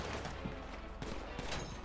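Gunfire in GTA 5 during a hardcore roleplay police chase, a burst of rapid shots crackling over a dense, noisy background, moderately distant and fairly faint.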